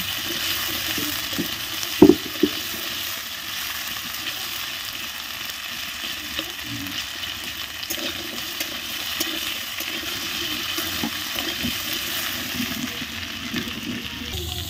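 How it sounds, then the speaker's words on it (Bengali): Potatoes frying in oil in a pan, a steady low sizzle with intermittent stirring scrapes and one sharp clank early on, moderately loud and close with no speech. "আলুটাকে ভালো করে নাড়তে হবে"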